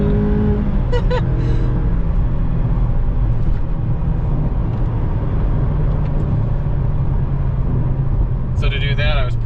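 Engine of a 2021 Mazda MX-5 Miata heard from inside, a steady low drone with a brief rev swell near the start and voices talking briefly over it.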